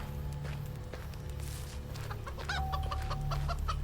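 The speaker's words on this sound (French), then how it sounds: "Ah, une petite poule." A chicken in the video game Of Ash & Steel clucks several times at close range, its choppy calls sitting over a steady low ambient hum.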